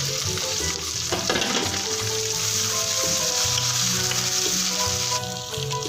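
Onions, garlic-ginger paste and chopped tomatoes frying for pulao in a pot, a steady close sizzle with stirring scrapes and occasional clinks, continuous and fairly loud.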